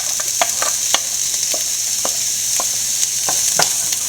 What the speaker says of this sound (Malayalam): നമ്മൾ സവോള വഴറ്റാൻ പോവാണ്. ചെറുതാക്കി അരിഞ്ഞ സവോളയാണ്.